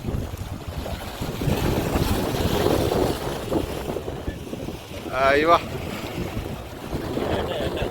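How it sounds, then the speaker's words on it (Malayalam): Aboard a small fishing boat at sea, a light wind buffets the microphone and waves slosh steadily around the hull, with a brief squeaky rattle partway through and people talking faintly. "നല്ല ചെറിയ കാറ്റും നല്ല തിരയുമാണ്"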